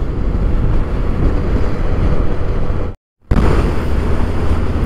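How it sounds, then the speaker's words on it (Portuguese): Strong headwind buffets a motorcycle riding at about 60 km/h on Ruta 40 toward the Atacama during a sandstorm, a loud continuous roar of wind across the microphone that cuts out briefly midway and then resumes. "O vento está contra."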